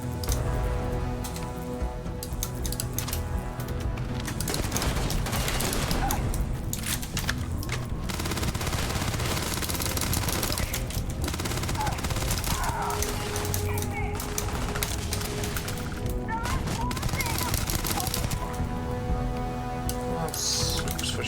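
Turret and pirate gunfire in a Starfield space-station fight, sustained bursts and booming shots layered under game music and a player's voice throughout.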